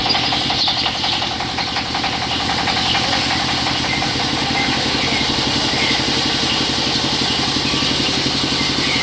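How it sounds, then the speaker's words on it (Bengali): Diesel engine powering a sawmill machine runs loud and close with a steady chugging idle and knocking rhythm that holds throughout, with no talking. "এই যে এই স্টার্ট দিচ্ছে ডিজেল চালিত মেশিন"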